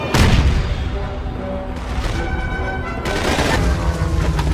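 Loud, close machine gun bursts in a Call of Duty 2 war cutscene, rapid rattling fire in two or three sustained stretches with heavy booming battlefield explosions underneath.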